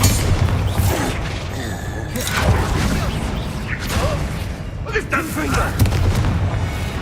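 A Bombarda spell explosion in the Hogwarts Legacy video game: a dense, continuous burst of booming blasts and crashing debris with whooshes, loud and close, mixed with battle noise and game voices.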